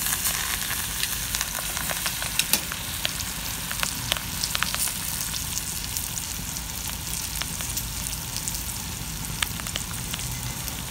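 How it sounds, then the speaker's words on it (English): A steak sears in a hot pan with rosemary and garlic, a steady loud sizzle and crackle with scattered sharp pops across the whole stretch and no voices. "And then the rosemary. And the rest of the garlic."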